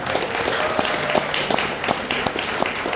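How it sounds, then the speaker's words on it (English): An audience at a college ribbon-cutting ceremony applauds, with scattered, moderately loud claps over a soft crowd murmur. "Give her a round of applause."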